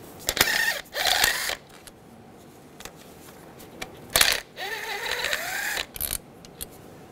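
A socket ratchet works bolts loose on a 2004-2009 Toyota Prius, heard as several short bursts of clicking and whirring, close and separated by quiet pauses.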